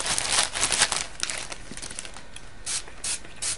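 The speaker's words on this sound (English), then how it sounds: "spray the paint into the plastic bag and kind of mix it up" Paper shreds shaken and crinkled inside a plastic bag with spray paint, a close rustling, scraping rattle that comes in bursts with brief pauses, with no voices.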